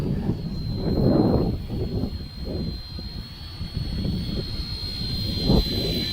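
A WLtoys XKS RC rescue helicopter hovers outdoors in the wind, its small motor giving a steady high whine over constant gusty wind rumble, with the loudness swelling and dipping slightly as it holds position.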